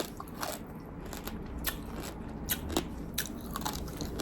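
Crunchy bites into pork skin that has been deep-fried twice, a run of sharp, crackly crunches close to the mic with no voices.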